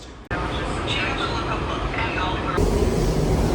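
DC Metro Blue Line train rumbling continuously as it approaches Largo station, heard from inside, with a steady broadband roar that swells louder after a sudden shift.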